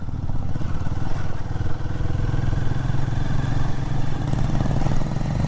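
A Royal Enfield Guerrilla 450 motorcycle is ridden off-road, its single-cylinder engine holding a loud, steady low thrum with rattling from the rough track and no voices over it.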